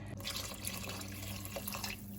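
Water pours steadily into a soup pot on the stove, a continuous close splashing and trickling flow with faint drips, heard on its own without talk.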